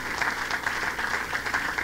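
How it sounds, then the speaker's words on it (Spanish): A congregation at a church service claps for the Lord, a brief, steady burst of dense applause at moderate loudness with no voice on top. "Denle ese aplauso fuerte al Señor"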